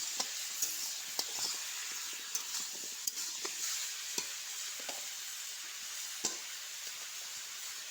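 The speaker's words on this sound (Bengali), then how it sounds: "অল্প একটু নেড়ে চেড়ে নেবে হলুদ আর লবণটাকে মিশিয়ে নেবে সবগুলো সবজির মধ্যে" Pumpkin and other vegetables with turmeric and salt sizzle softly in a pan under a steady hiss. A spoon stirs with scattered light scrapes and taps close by.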